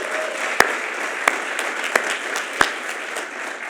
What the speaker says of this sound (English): But I think we all owe Mark Schumacher a round of applause.